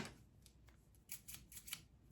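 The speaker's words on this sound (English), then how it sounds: "Then it says there is one sewing scissors." Sewing scissors are handled and snipped, a few faint metallic clicks and blade scrapes close by, quiet and brief with no talk.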